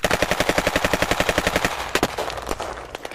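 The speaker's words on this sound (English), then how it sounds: "I hear gunfire." Rapid automatic gunfire in a Lego-themed war game, a fast even burst of about twenty shots, then a few scattered louder single shots, close and loud with no talk.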